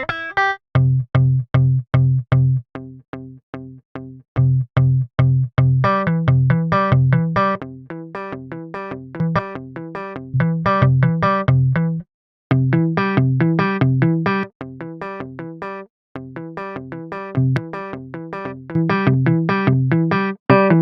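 Synth notes played through a guitar-cabinet convolution effect in FL Studio's Fruity Convolver ring out as loud, gritty, distorted chords and short repeated stabs, with brief gaps between phrases.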